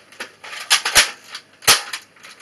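Nerf Vortex Nitron disc shooter firing, sharp snapping launches with clicky mechanical rattles between them, three or four close shots within a few seconds.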